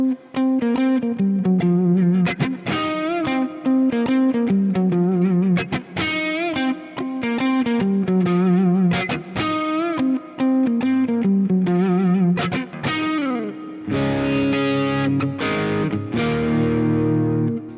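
Electric guitar played through the Neural DSP Plini X plugin with reverb and a compressor, a continuous run of distorted, chorus-tinged melodic notes and chords, loud and close with no voices.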